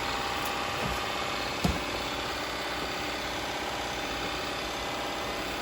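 A Shark IQ robot vacuum runs on its cleaning pass, a constant whirring drone close by, with one brief bump partway through.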